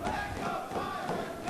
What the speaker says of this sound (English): Dueling chants now for both men.